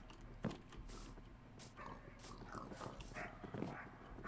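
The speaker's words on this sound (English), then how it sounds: "Okay, it's a dog. Okay, chat, you can hear animals outside my window." A dog barks outside a window, a few distant, muffled barks scattered over a steady low background hum.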